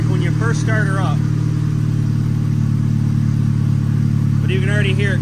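A Chevy engine fitted with a new motor cranks and then runs at a steady loud idle, a deep continuous drone, while a person speaks briefly at the start and again near the end.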